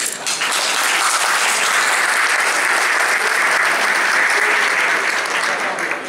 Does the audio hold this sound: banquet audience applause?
yes